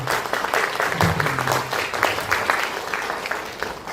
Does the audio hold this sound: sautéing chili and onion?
no